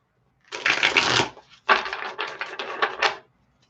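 Tarot cards riffled and shuffled up close in two loud, rapid bursts of flapping and snapping, separated by a short pause, with no talking over them.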